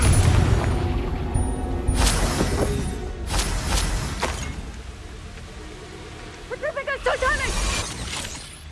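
A Confringo blasting spell goes off in the video game Hogwarts Legacy, a loud booming burst amid repeated spell-combat blasts and whooshes, with a voice speaking over the clatter.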